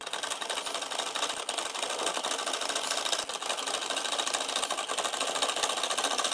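A sewing machine stitches a contrasting-colour frill, a continuous fast rattling whir running steadily and close with no pauses or talk.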